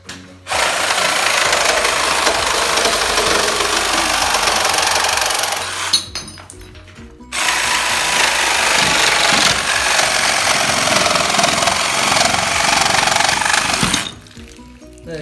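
A Bosch 18V cordless sabre saw with a wood-and-metal blade cuts through copper pipes, roaring close and loud in two long bursts of rapid reciprocating rattle separated by a brief pause.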